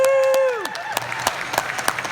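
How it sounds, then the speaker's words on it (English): At a drum line camp performance, a long sustained voice cheers, then a modest crowd breaks into scattered, crisp clapping with distinct individual claps popping out. "give them one big round of applause"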